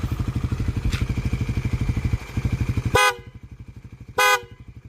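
A Suzuki Raider 150 Fi motorcycle engine revs and idles with a fast putter, then two brief, bright honks from its MXR M85 electromagnetic horn ring out close by.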